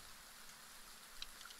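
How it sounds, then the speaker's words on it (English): Steady, quiet rain falls outside on a nasty, windy morning in Iceland, a soft continuous hiss with a few faint drips, no voices. "it's just raining out there"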